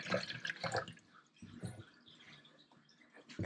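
Two cups of water poured into a camp stove pot, a few short splashing bursts and drips, close and fairly quiet, with pauses between pours.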